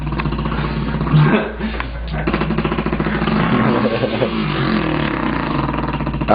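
A man imitates a dirt bike engine with his mouth, buzzing and revving in a loud, rattly, continuous drone with pitch swells, close up.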